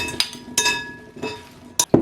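Clinks and taps of a utensil against a bowl while Brussels sprouts are tossed with balsamic vinegar, a few sharp, separate knocks spread across two seconds, close and fairly clear.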